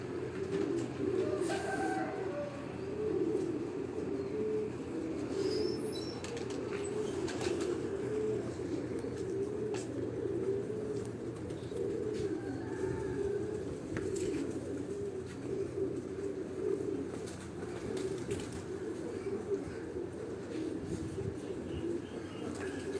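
Pigeons coo steadily in a low, repeating murmur throughout, with occasional faint clicks and chirps nearby.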